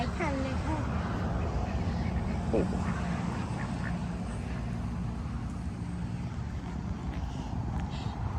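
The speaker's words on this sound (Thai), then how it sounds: "ดูเป็ด ดูเป็ดดูห่าน" Ducks and geese quack repeatedly outdoors on a mild, sunny day, with several calls clustered early and others scattered over a steady background. People talk throughout.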